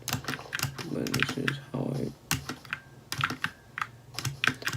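Typing on a DIERYA RGB computer keyboard, fast irregular key clicks in close bursts with a quiet voice speaking over part of them.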